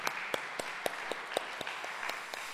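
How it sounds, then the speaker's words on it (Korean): A church congregation at a Sunday daytime worship service applauds, a faint wash of clapping carrying a steady, evenly spaced beat of sharper claps, with no talk over it. "박수로 하나님께 영광을 올리겠습니다"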